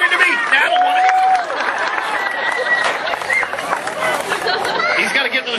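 An audience at an alligator wrestling show claps and cheers for the wrestler, a dense crowd of applause mixed with chatter and a shrill whistle, fairly close and loud throughout.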